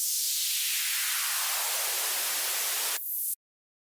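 A synthesized white-noise tone, high-passed around 400 Hz in FL Studio, hisses steadily and loudly, its low end sweeping upward until a sharp cut near the end leaves a thin bright burst before abrupt silence.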